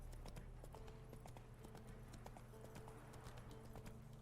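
Steady clip-clop of a horse's hooves galloping in The Witcher 3, a rapid repeating rhythm held close and constant over low game ambience, with a faint neigh now and then.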